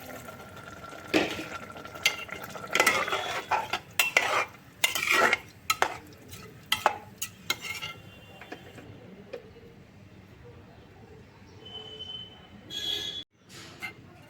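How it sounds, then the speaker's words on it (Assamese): Water poured into a pot of rice for pulao, a splashing wash mixed with metallic clinks and stirring clatter for the first half, fading to quieter kitchen noise. "ইয়াত পানী ঢালিছোঁ মই এতিয়া"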